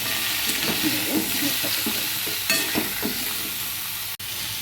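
Potato, pointed gourd and vegetable stems dusted with turmeric are stirred in a hot frying pan for a prawn mixed-vegetable curry, giving a steady close sizzle with soft spatula scrapes and one sharp clack near the end.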